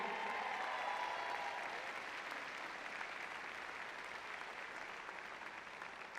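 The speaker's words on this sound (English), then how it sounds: "I want to give a special round of applause to the amazing Amani Perryman right over here" Steady, dense applause from an audience at a UCLA student-athlete graduation ceremony, clapping evenly for about six seconds and easing slightly toward the end, with no voices on top.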